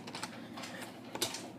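Quiet computer keyboard typing as C++ code is entered, a short run of soft, close key clicks with no talking.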